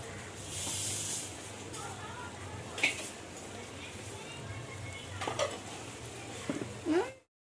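Chicken pieces are stirred in hot oil for a restaurant-style chicken fry, with a soft hiss and sizzle broken by a few scraping spoon strokes against the pan, close by, with no talking.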